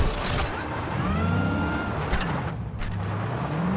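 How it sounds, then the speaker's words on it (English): A car engine in the video game Cyberpunk 2077 revs and whines continuously with rising and falling pitch, brief tire squeals mixed in, close and fairly loud. "We might as well drive then."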